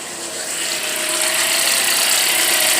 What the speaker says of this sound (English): a noise coming from the engine, especially when you start it up